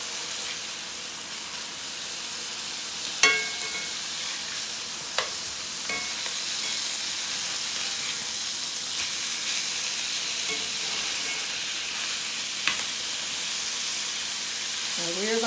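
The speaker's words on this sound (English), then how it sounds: "we are going to turn over our burgers" Burgers fry in a pan with a steady, bright sizzle throughout, broken by a few soft clicks and scrapes as the patties are turned, with faint kitchen sounds at the end.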